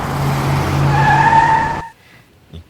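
A car brakes hard with a steady tire squeal lasting over a second, then cuts off abruptly into near silence.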